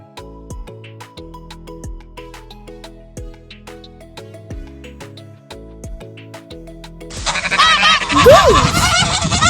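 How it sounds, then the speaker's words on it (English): A goose honks in a loud burst near the end, following a stretch of background music. "goose"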